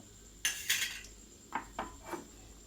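A spoon stirs soaked sabudana into khichdi in a pan: two quick scraping clanks close together, then, after a pause, three softer metallic taps and scrapes in a quiet kitchen.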